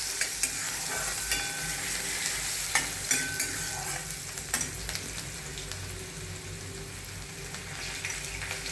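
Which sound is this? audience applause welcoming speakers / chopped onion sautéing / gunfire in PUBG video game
chopped onion sautéing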